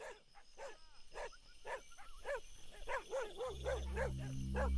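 A dog barks in a rapid run of yips, nearby and moderately loud, with a low rumble building underneath toward the end.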